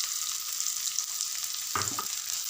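Finely chopped onions for torka fry in a pan with a soft, steady sizzle, then a brief scraping stir near the end, quiet and close.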